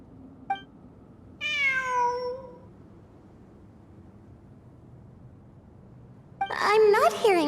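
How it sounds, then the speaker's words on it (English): A cat meows in a video game: a short chirp, then a long drawn-out meow, a quiet pause, and a final loud, wavering cry at the end. "It really is a cat."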